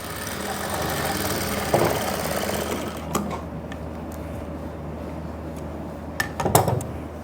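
An electric sewing machine runs steadily on a pant side seam near the pocket, a dense continuous whirr with a couple of brief knocks and pauses as the fabric is guided.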